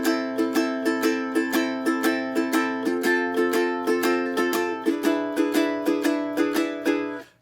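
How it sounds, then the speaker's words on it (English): Ukulele plays a swung down-up strumming pattern in a lilting, galloping rhythm, quick paired strums repeating evenly and close, chords shifting partway through before the sound cuts off. "Second option, you could play a swung pattern,"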